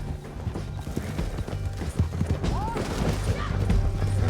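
Rhythmic clip-clop hoofbeats of a galloping horse pound steadily in Red Dead Redemption 2, layered with game sounds and a brief whinny-like sweep.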